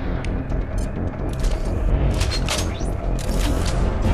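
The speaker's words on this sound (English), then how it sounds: "Use the grenade launcher to take them out." Repeated booming blasts from a grenade launcher fired at attacking mechs in the sci-fi video game Mass Effect 2, dense and loud throughout with crackling mechanical clatter and rumble, no talk.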